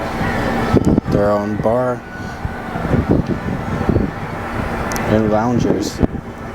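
Wind gusts across the deck of the Norwegian Prima cruise ship, a steady rushing buffet on the microphone that runs under someone talking throughout.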